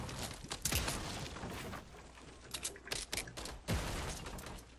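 Gunfire in an online shooter game rattles through a dense wash of game noise, with scattered rapid bursts and a couple of heavier booming shots at mid distance, no one speaking.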